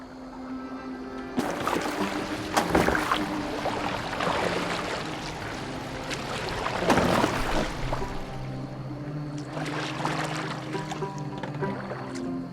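Oars of a rowing boat sweep through water in Assassin's Creed Valhalla, a game scene, with steady sloshing and splashes over several strokes beneath a faint musical drone.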